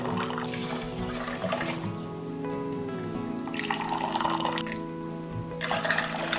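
Water pours into a pan holding one mug of long grain rice, a steady close trickle and splash with a few brief pauses, recorded in a home kitchen with no talking.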